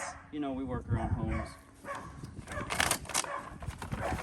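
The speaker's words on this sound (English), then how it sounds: "Please excuse the dogs." Dogs bark and yip repeatedly in the background while someone talks over them, the barking loud at first and then fading under the speech.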